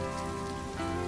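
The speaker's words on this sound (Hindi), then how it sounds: "खूब जोरदार बारिश होने लगती है" Heavy rain pours down in a dense, steady hiss of drops striking surfaces, loud and unbroken for the whole moment.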